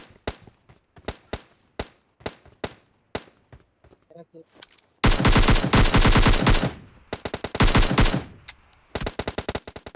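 AKM assault rifle fire in PUBG Mobile Lite: single sharp shots at first, then long, loud full-auto sprays with a brief pause between bursts, and a few final shots trailing off.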